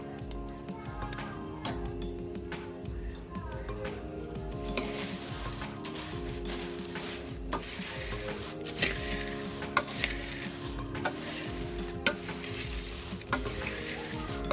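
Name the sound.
mixing bhel puri ingredients together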